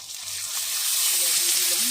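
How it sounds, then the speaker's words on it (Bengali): Potatoes frying in hot mustard oil with cumin seeds, bay leaf and dried chillies, a steady broad sizzle that swells slightly and holds close and fairly loud, with a few faint tonal clinks beneath. "এবারে আলু দিলাম, আলুটা ভেজে নেব।"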